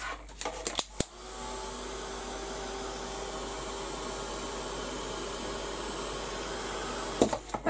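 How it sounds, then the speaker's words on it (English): A heat gun blows steadily to dry a layer of Mod Podge on a craft project, a continuous airy whoosh held for several seconds, with brief clicks and bumps at the start and end. "I'll give a quick blast with the heat gun just to dry it before I move on to add texture paste"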